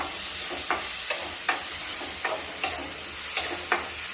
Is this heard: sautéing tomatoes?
yes